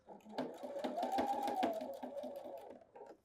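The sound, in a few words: sewing machine stitching a seam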